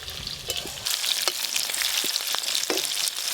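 Sauce paste for chilli chicken sizzles in a frying pan, a steady crackling hiss that swells as it hits the hot oil, with a few scraping stirs, close and moderately loud.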